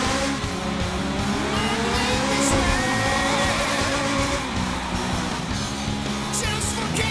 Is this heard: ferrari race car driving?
yes